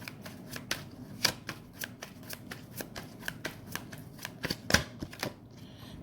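Tarot cards shuffled by hand in a steady run of crisp riffling snaps, close and clear with no talk.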